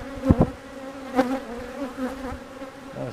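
Honey bees at an open, queenless laying-worker hive buzz steadily up close, with a few louder passes of individual bees rising out of the continuous drone and no talk.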